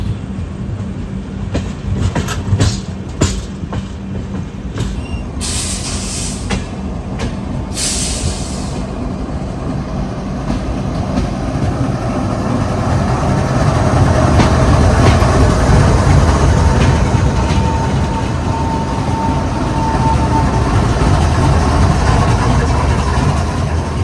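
Indian Railways train running, heard from inside a First AC coach, with a steady rumbling drone and clickety-clack that grows louder midway, a continuous tractor-like chugging throughout.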